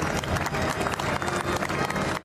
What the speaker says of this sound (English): The king departing St. Giles to a muted round of applause.